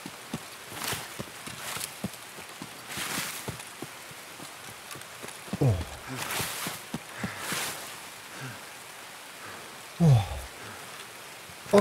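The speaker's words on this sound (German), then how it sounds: "Und es regnet doch nur." Rain in the video game Escape From Tarkov on the Customs map, a soft steady patter under scattered footstep-like thuds and a couple of brief louder knocks, faint overall.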